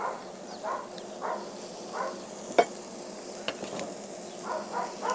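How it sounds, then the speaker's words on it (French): Onions cook in leftover bacon fat in a pan with a quiet, steady sizzle, joined by soft stirring swishes and an occasional sharp tap. "je laisse le reste de la graisse dans la poêle. Et je vais l'utiliser pour cuire mes oignons"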